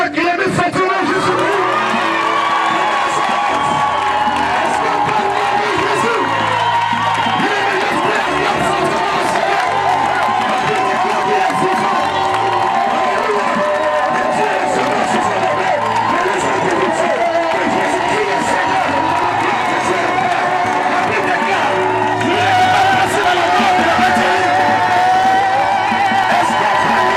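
A church congregation cheers and acclaims loudly, with a continuous roar of voices, shouts and whoops sustained throughout and a preacher's voice mixed in.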